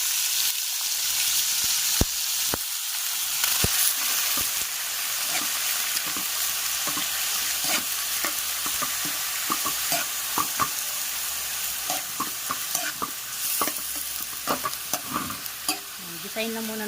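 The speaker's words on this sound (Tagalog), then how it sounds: "Gisahin lang muna natin yan guys bago natin lagyan ng toyo at sopa" Chicken gizzards sautéing with garlic and onion in a pan sizzle loudly and continuously, with repeated spatula scrapes and taps throughout.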